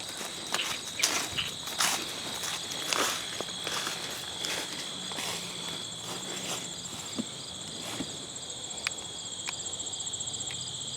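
Footsteps walk steadily outdoors at a close, even pace, with crickets chirping continuously in the background.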